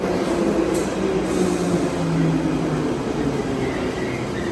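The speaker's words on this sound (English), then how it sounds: "We're gonna take this train all the way to King's Cross." A London Underground train rumbles along the tracks on the way to King's Cross, a loud, steady roar of wheels and carriage noise throughout with no talking.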